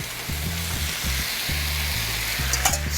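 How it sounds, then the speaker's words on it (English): Loud, continuous sizzling of chicken pieces frying in a hot pan, a dense crackle with a low hum underneath and occasional stirring clinks. "now we've got some sizzling going"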